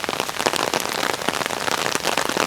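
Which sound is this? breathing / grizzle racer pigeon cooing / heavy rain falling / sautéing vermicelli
heavy rain falling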